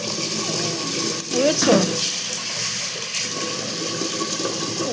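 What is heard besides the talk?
water running while washing rice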